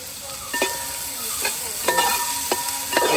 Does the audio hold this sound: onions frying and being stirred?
yes